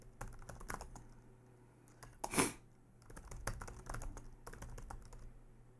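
Bursts of typing on a computer keyboard while a password is entered for a new user account on an Ubuntu server, with quick irregular key clicks and a brief louder clatter midway, close and clear with no talk.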